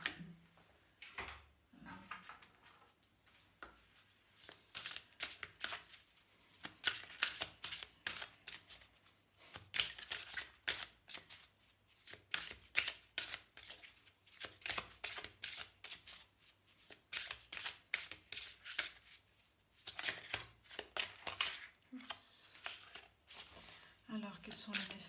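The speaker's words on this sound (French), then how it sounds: "Je vais prendre des cartes d'Archange Métatron pour des conseils." Archangel Metatron oracle cards being shuffled by hand, a long run of rapid, close riffling bursts that rise and fall in repeated waves, with a voice talking quietly at moments.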